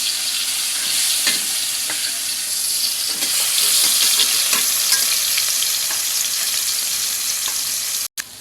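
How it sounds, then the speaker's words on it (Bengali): A snakehead fish fries in oil on a stove, making a close, loud, continuous sizzle with small spattering pops that cuts out briefly near the end. "ওইদিকে মাছ চুলায় ভাজা হচ্ছে"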